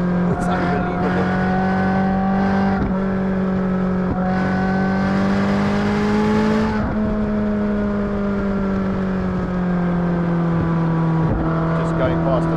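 A car engine revs hard and drops back while driving on the road, a loud, close engine note rising and falling across the clip, with voices talking over it.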